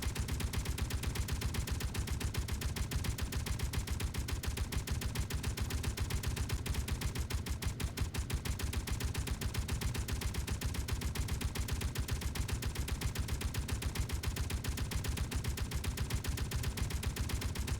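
Sustained rapid gunfire from gun turrets shooting at the player in a video game, a dense unbroken rattle of automatic shots running loud and steady throughout with no pauses.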